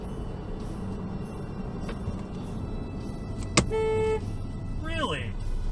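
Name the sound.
pickup truck honking its horn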